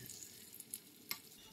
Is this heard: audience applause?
no